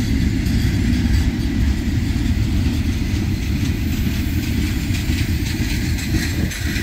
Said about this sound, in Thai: เลี้ยวโค้งนะเลี้ยวโค้งลงใต ้พื้นสั่นสะเทือนเลยนะฮะความหนักของรถนั้นสะเทือนมา